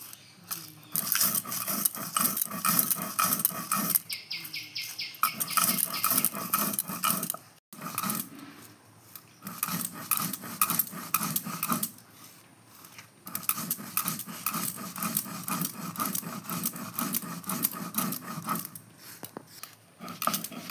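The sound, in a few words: grinding spices on a shil-nora grinding stone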